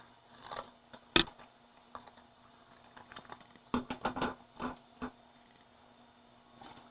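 Scissors cutting a paper hat shape for a collagraph print, quiet close snips in irregular bursts with a sharp clack early and a cluster of rapid cuts later, near silence between.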